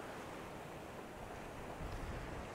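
Strong coastal wind buffets the microphone on a Northumberland shore during a cod fishing competition, a steady broadband rush with surf-like roar swelling slightly toward the end, no voices.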